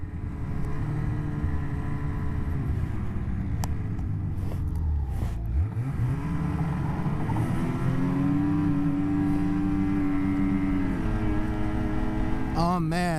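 Snowmobiles riding a trail near Bracebridge, a steady close engine drone from the sled with shifting pitch as it revs and slows, continuous throughout.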